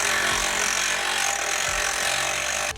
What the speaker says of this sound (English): We'll go ahead and remove this bolt all the way.